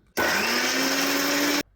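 A kitchen mixer grinder whirs loudly and steadily for over a second, grinding cumin, ginger, garlic and green chillies, with an abrupt start and stop and no talking.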